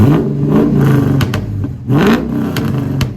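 A car engine revs up twice, each surge followed by sharp crackling pops from the exhaust, loud and close.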